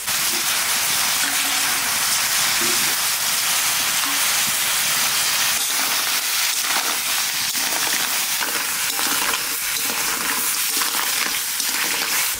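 Crab pieces and onions frying together in a pan, a loud, steady broadband sizzle with occasional stirring scrapes running continuously throughout, no voices.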